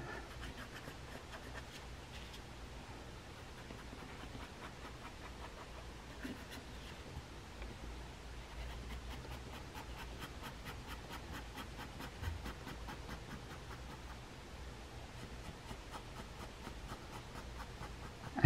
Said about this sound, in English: Shading with these pens takes a lot of time.